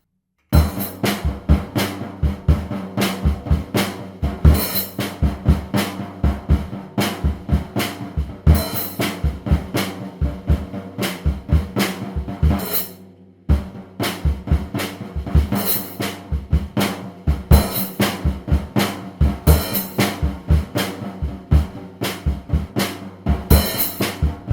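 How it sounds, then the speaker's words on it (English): Full drum kit playing a steady rock beat with accented open hi-hat notes, loud and close with regular kick and snare hits and a brief break midway. "you still want to do the open hi-hat notes. It's going to sound like this."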